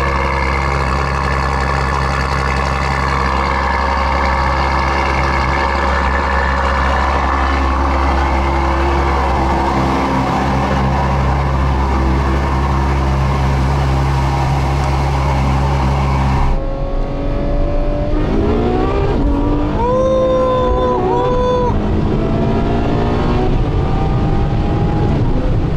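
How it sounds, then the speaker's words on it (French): A naturally aspirated car engine holds a loud, steady drone for about sixteen seconds, then cuts sharply and revs in repeated rising and falling sweeps, close and with no voices. "Moteur atmosphérique"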